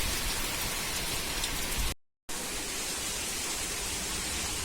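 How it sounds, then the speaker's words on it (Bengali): Steady, dense rain pouring onto a garden and rooftop garden, a broad even hiss with no voices, broken once by a short silent gap before resuming just as strongly. "একেবারে বৃষ্টির মুহূর্তে আমি ছবিটা তুলছি।"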